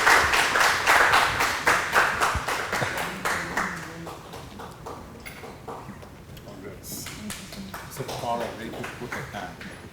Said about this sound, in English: Can we have a round of applause for the lady and everyone?